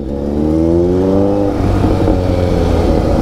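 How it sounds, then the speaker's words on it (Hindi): A vehicle approaches with a loud, close engine whine rising in pitch and then giving way to a broad rushing roar as it nears. "गाड़ी आ रही है"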